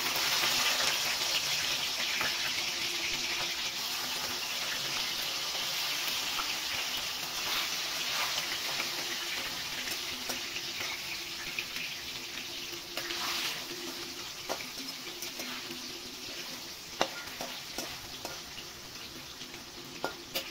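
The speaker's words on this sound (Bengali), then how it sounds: "কড়াইতে তেল গরম হলে আমরা মাছগুলো দিয়ে দিচ্ছি।" Fish pieces fry in hot oil in a wok, a continuous broadband sizzle that holds for about twenty seconds and slowly fades a little, with occasional clicks and splashy, watery hiss.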